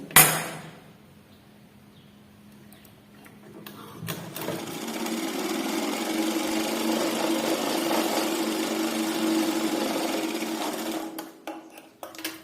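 A sewing machine stitching a blouse on single tension runs in a steady whirring hum for about seven seconds, starting after a clunk and a quiet pause and ending with a few clicks.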